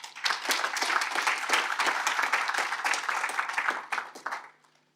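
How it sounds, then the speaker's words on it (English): Audience at a drugs commission summit in Nairobi breaks into sustained, dense applause from a large crowd, many hands clapping together at steady volume before fading out near the end. "Can you give all the speakers a round of applause"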